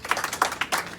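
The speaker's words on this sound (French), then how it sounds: "Nous allons applaudir pour ça." Wedding guests at a Haitian marriage ceremony applaud in a short burst of uneven, moderately loud clapping with no talking.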